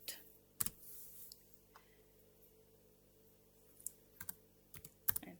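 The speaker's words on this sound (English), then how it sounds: "And type in docker ps" A command being typed at a computer keyboard, with sparse, quiet key clicks scattered singly and in small clusters over a faint steady hum, close by and unhurried.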